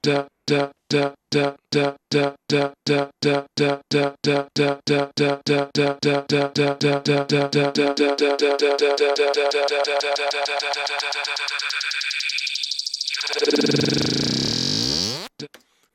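A chopped electronic sample built in Cubase Pro 9 repeats in even pulses, speeding up into a rapid stutter as a filter sweeps upward, building tension before it abruptly cuts off.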